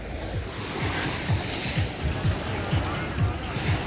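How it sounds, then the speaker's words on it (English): Ocean surf breaks at a busy beach at Corralejo, Fuerteventura, with a steady rush of waves and regular low thumps, as if from footsteps, all under wind noise and a constant background roar. "The surf's up as well, guys"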